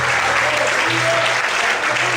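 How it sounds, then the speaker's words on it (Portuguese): A church congregation applauds through an evening service, a steady wash of many hands clapping at close range, with a low hum and faint voices underneath. "Será que você pode aplaudir e exaltar a Deus nessa noite?"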